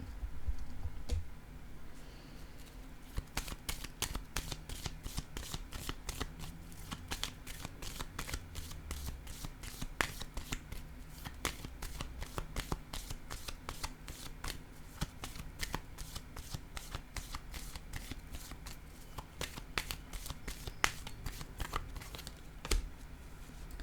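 Tarot cards are shuffled and laid down for a reading, a rapid, steady run of crisp riffling clicks and card snaps lasting the whole stretch, close by and fairly quiet, with no speech.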